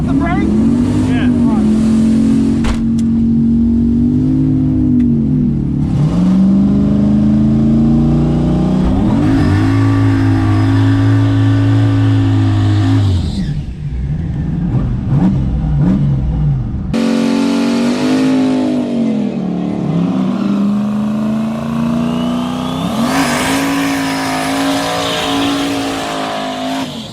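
A drag racing car launches and makes a full pass: a loud, close engine roar climbs through the revs, dips at each gear change and keeps pulling hard to the end. Voices break in now and then.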